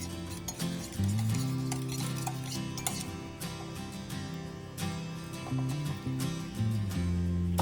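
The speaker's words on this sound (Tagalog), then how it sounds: "haluin lang natin mabuti until mag-well combine" Dumpling sauce of sesame oil, broth and sesame seeds being stirred in a bowl or pan, with repeated light clinks and scrapes of a utensil over a hum of background sound, close and with no talk.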